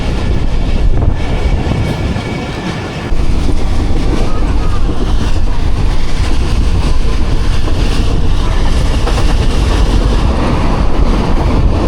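The Rehman Baba Express rolls along and picks up power as the driver notches up, a loud, continuous on-board rumble of wheels and carriages that dips briefly early on, then swells and holds steady.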